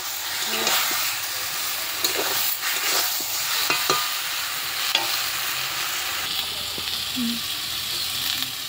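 Overcooked boiled taro is stirred with spices in a pan, with a soft continuous sizzle and hiss broken by scattered scraping clicks of the spoon, close and moderately loud.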